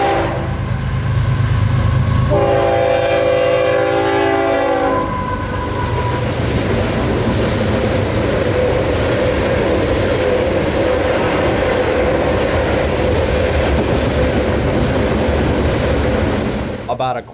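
A CSX freight train passes a road crossing and sounds a loud, sustained horn, then continues rumbling by with steady wheel noise and clatter close at hand for over ten seconds.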